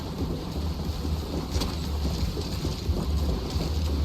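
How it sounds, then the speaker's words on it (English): Stormy weather in the Zenless Zone Zero video game, a steady wash of wind and rain with low rumbling thunder underneath, dense and continuous. "The wind and rain are picking up."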